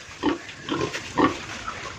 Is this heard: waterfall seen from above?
no